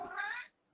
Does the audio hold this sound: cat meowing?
yes